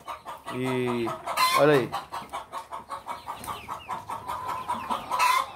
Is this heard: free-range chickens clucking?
yes